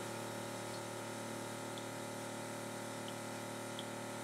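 A Keurig 2.0 coffee maker finishing a brew and making an unusual noise: a steady, close pump-like whir with trickling water, plus a few faint high clicks, with no talking.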